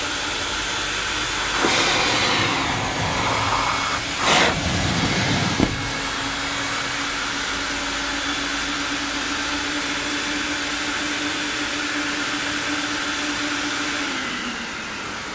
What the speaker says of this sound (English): Listen to the vacuum.